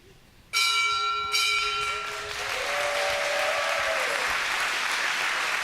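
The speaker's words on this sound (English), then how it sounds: "Ringing that bell is pretty special around here" A single large bell is struck twice at the Hendrick Engine Builder Showdown, ringing loudly with a long shimmering decay that hangs over crowd noise and applause.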